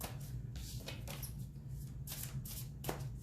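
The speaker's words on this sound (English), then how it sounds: "I'll just do a light shuffle of this" Quiet, close light shuffling of a deck of tarot cards, with repeated soft riffles and brushing bursts over a few seconds and no talking.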